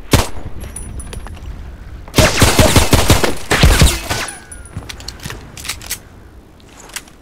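Loud, close gunfire from a weapon in the video game Contract Wars comes in a few sharp bursts of rapid shots separated by quieter gaps, with scattered single shots toward the end.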